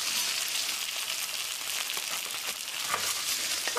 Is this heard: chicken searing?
yes